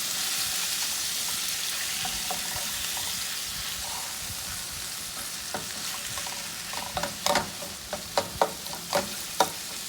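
A plantain boat filling browns in a frying pan over medium-low heat with a soft, continuous sizzle. Sharper stirring scrapes and clatters come through in the last few seconds, and no one speaks.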